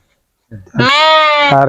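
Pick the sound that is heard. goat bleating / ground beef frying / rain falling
goat bleating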